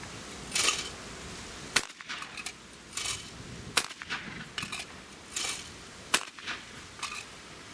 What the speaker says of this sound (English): this gun is easier loading than a far more expensive Benelli, and the bolt isn't nearly as rattly